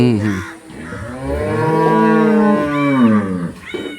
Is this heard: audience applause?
no